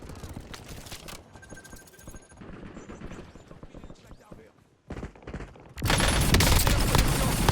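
Automatic and burst gunfire in the Call of Duty Warzone video game, a busy stretch of shots with game sounds and a French-speaking voice announcing actions, ending in a loud dense sustained blast of fire.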